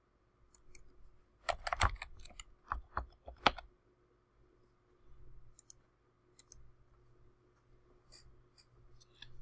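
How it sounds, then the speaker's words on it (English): Someone types a search on a computer keyboard, with bursts of quick, crisp key clicks, then lighter scattered taps, close up in a quiet room. "type in a search such as fake news and see what happens"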